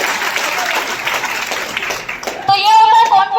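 Seminar audience claps together in a brisk, dense burst of applause, then a voice rises over the tail end as the clapping fades.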